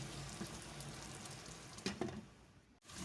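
Sauce of vinegar, salt, black pepper, oregano and crushed red chili being mixed in a pan for spaghetti and meatballs, a soft steady sizzle with a few louder stirring scrapes near the end.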